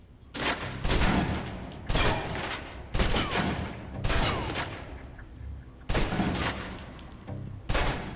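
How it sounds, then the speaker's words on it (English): Submachine gun fire in the video game Alpha Protocol, several loud sustained bursts emptying the magazine, separated by short pauses with faint room noise between. "let's move on to the submachine gun. Now let's empty the clip."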